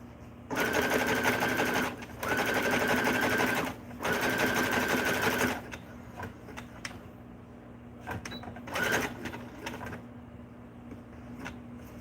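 A sewing machine runs zigzag stitches with coordinating thread, three loud steady bursts of motor whir separated by short pauses, then a quieter stretch with faint handling clicks and a brief final run.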